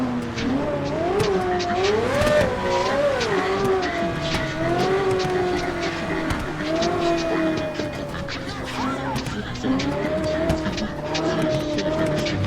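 A Mustang driven in a video game, its engine note rising and falling through revs with occasional tire squeal, loud and continuous.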